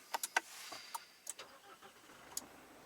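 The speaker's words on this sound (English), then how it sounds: "To start, step the brake and then push start button." A pickup truck starts by push button: a few faint clicks and short electronic beeps are followed by a quiet, soft engine catch in an otherwise hushed cabin.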